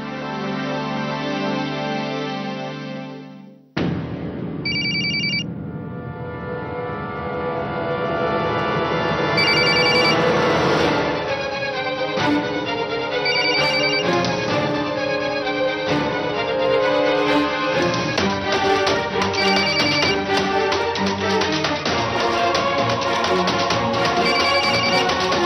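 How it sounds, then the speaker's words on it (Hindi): An electronic phone ringtone plays loud and continuous as a repeating melody, with no voices. "फोन उठाइए"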